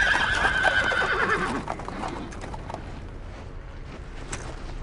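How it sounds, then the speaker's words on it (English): In a World War II video game, a horse whinnies loudly at the start over hoof clip-clops, then the neighing fades into rumbling background noise. "Sir, I hear horses coming down the road."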